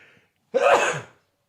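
One sharp, close sneeze bursts out after a brief quiet breath, loud and explosive, then trails off into silence.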